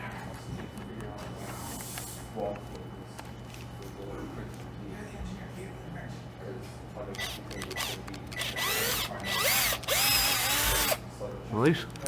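A power drill bores a hole with a small bit for a homemade DC motor, whining in short bursts at moderate distance, with a person talking over parts of it and some handling clatter.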